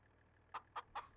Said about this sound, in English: You can probably hear your chickens in the background as well.